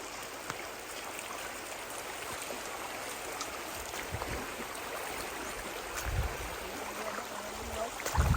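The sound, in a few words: flowing stream on a farm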